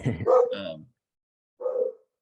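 A dog barks twice indoors, a loud sharp bark followed after a short pause by a second, briefer bark, with no speech over it.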